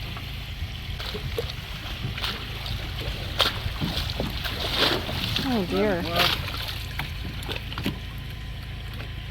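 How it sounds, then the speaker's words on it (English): Waves slosh and splash around a small boat in repeated bursts, close and choppy, while people talk and exclaim over the water noise. "The waves are still coming in though"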